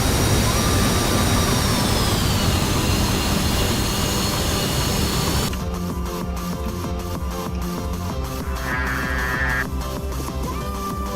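The jet engine of a MiG-28 fighter in a video game gives a loud, steady roar close by, its pitch dipping slightly before the tone shifts into a lower, rumbling drone.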